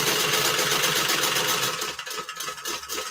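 A sewing machine stitches around the outside edge of a project, a steady close whirring hum that turns into a choppier, pulsing run near the end, with no talking.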